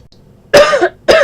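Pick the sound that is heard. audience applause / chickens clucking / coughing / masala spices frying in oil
coughing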